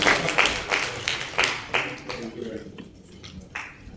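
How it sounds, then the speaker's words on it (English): Scattered audience clapping at an AI summit certificate awards ceremony, moderately loud at first and thinning out, with a voice speaking over it. "Please clap"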